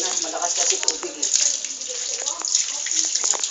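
Water gushes steadily from a strong tap into a tub during a baby's bath, splashing and trickling, while nearby voices talk over the flow.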